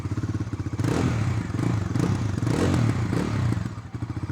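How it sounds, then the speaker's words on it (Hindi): A 2026 Bajaj Dominar 350 motorcycle starts and its exhaust settles into a loud, close, steady throbbing idle, with a lumpy pulsing rumble before and after a brief swell in the middle. "एक बार मैं आपको एग्जॉस्ट साउंड भी सुना देता हूँ कि एग्जॉस्ट साउंड जो वो कैसी रहने वाली है"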